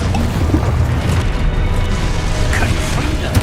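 An Expulso explosion spell cast in the game Hogwarts Legacy, a loud, dense low rumble and boom that fills the whole moment with crashing bursts layered over game noise.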